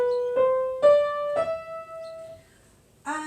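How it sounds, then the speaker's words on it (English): Piano notes climbing a white-key scale from E, four clearly separated tones ringing out one after another, each sustaining before the next, with a brighter struck chord at the end. "if I start on E and I just play all the white notes"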